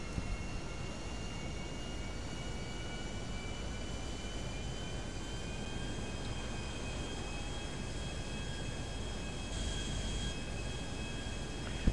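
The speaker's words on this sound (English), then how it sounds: "This freaking jet is loud" A jet aircraft engine in GTA 5 roars steadily and loudly for the whole stretch, a dense broadband rush with thin high whining tones running through it, with no talk.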